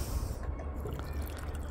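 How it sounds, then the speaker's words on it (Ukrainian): Water trickles and splashes steadily into an apple and raspberry cider mixture, a close, continuous pour. "додаємо води."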